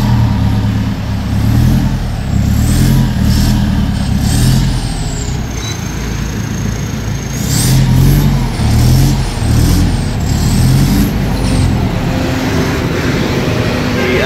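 A Mitsubishi Montero fitted with an aftermarket Bidot exhaust rumbles loudly nearby, its low engine drone rising and falling through a couple of revs, with faint high whistles above the steady roar.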